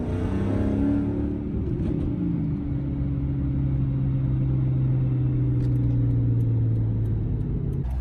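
Supercharged Mercedes CLS55 AMG engine rumbling close by, rising gently in pitch as it is given a little gas and then easing off, continuous with no talk.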